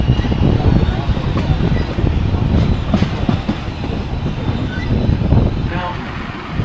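An excursion train hauled by a steam locomotive on a Jersey Central line rolls steadily along the rails with a loud, continuous rumble and rhythmic clatter of wheels, heard close from aboard, while a voice talks over it.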